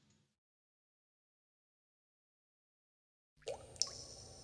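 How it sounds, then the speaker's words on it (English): Water drips in an echoing space. After a long stretch of silence, a few close drops land with a soft reverberant splash. "The sound of dripping water came from somewhere, it echoes reaching my ears."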